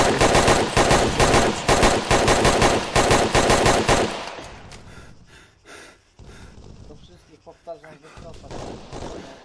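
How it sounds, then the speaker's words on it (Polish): Heavy automatic gunfire in Arma 3, rapid loud bursts of rifle and machine-gun fire for the first few seconds, then fading to scattered distant shots and rustling, with voices faintly underneath. "Ostrzał z Northwest."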